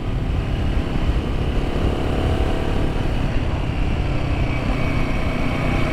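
A Royal Enfield Himalayan 450 motorcycle climbs a very steep hill in fourth gear, its engine a steady, loud low drone mixed with wind rush throughout, no voices.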